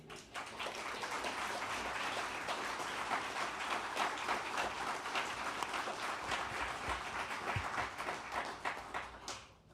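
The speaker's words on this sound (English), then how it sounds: "you can give them a rousing round of applause." Sustained audience applause fills the hall at a formal evening lecture honoring Senators Trent Lott and Tom Daschle, a dense steady clatter of many hands holding loud and even for nearly ten seconds before tapering off at the end.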